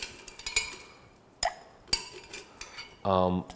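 A Manhattan cocktail of whisky and German bitters is stirred in a mixing glass with a bar spoon, making close irregular clinks of metal and ice against glass. A brief voice follows at the end.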